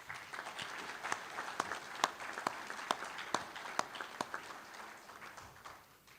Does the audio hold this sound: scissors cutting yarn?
no